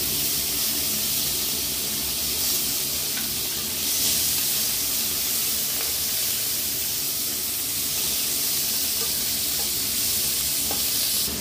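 Grated onion fries in leftover fish-frying oil with a little cumin, giving a loud, steady sizzle and hiss that runs unbroken, close up, with occasional stirring and no talk.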